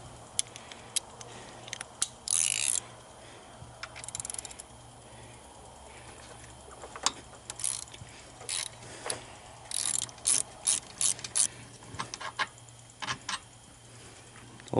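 Ratchet wrench loosens a 15mm bolt during alternator replacement on a Chevy Impala with a 3.6L V6, giving close bursts of rapid clicking between pauses, with no talking.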